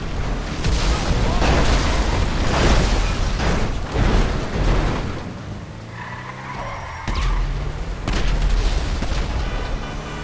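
Missiles exploding on a player in GTA Online, fired at an Oppressor from a BMW, heavy close blasts and rumbling booms amid engine and skidding noise, with a voice speaking over part of it.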